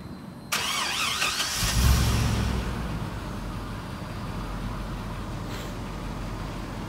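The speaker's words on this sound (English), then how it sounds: "now I'm gonna have him start it up on video, let you listen to the big motor" A 2005 GMC 7500 forestry bucket truck engine cranks and catches, revs up briefly, then settles into a steady, smooth idle.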